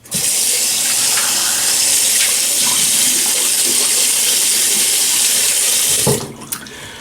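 Tap water running hard and steady into a sink during face washing, a loud continuous splash that stops abruptly near the end with a few drips and clicks.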